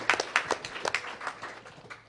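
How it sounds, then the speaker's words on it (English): Scattered audience clapping at a convention panel, a thin, uneven patter of hands with distinct individual claps, fairly quiet and brief, fading out toward the end. "Everyone, give him a round of applause."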